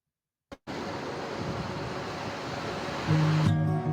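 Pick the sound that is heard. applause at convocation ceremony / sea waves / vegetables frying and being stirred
sea waves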